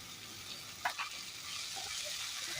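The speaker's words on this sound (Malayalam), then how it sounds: "ഇളക്കി കൊടുക്കുക." Raw banana curry sizzling and frying in a pan while being stirred, a steady hiss with a few brief scraping clinks of the spoon near the start, close and fairly quiet, no voices.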